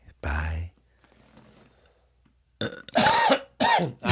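A single loud burp erupts up close at the start, followed by a quiet pause and then people talking.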